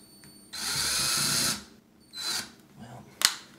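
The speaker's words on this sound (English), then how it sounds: "I'm going to drill those pilot holes real quick" A power drill whirs in two bursts while drilling pilot holes in wood, a long steady run followed by a shorter one, then a sharp click; close by, with faint background noise.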